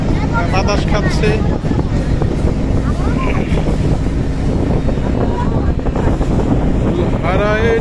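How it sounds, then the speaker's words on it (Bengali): Strong wind buffets a fast-moving trawler on the Meghna River, a loud, constant roar of gusts over the engine and water, with people talking and voices rising above the noise. "খুবই বাতাস লাগতেছে, ভালো লাগতেছে"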